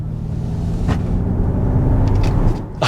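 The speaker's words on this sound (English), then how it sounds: "The fake engine sound rumble" A synthetic engine rumble plays through the rear speakers of a 2024 Ford Mustang Mach-E GT while driving, a steady low growl swelling slightly with road noise and no talking.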